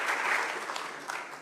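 Applause from the public at a county commission meeting in a meeting room, a short, fairly close burst of many hands clapping at once that thins slightly toward the end.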